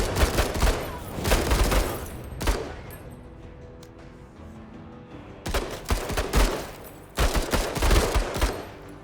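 Gunfire in the video game Menace, rapid bursts of shots in clusters separated by quieter gaps, loud and close, with the last bursts coming in quick succession.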